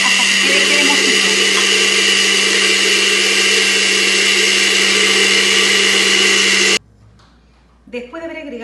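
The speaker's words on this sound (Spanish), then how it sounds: "Ya estamos licuando y ahora es momento de añadir el aceite en forma de hilito, poco a poco, hasta que quede cremosito" A loud blender whirs steadily while blending ají sauce as oil is drizzled in, then cuts off abruptly and a voice begins speaking.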